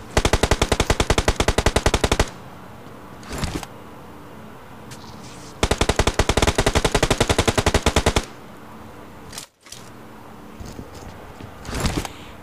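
Rapid automatic gunfire in the mobile battle royale game PUBG Mobile comes in two long, dense bursts, separated by a single short burst and quieter gaps with faint background game noise.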